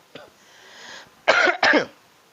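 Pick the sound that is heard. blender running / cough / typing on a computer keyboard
cough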